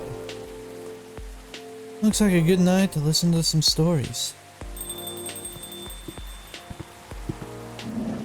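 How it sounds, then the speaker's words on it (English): Steady rain falling in the video game Coffee Talk 2, a soft continuous patter running beneath a man's spoken line and scattered game sounds. "it's still raining, but still, but as long as it ain't storming too bad"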